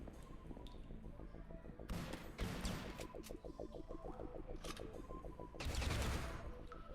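Gunfire in the video game This Strange Realm of Mine, with several loud shots and bursts in rapid succession over a continuous low background drone, and a heavier blast near the end.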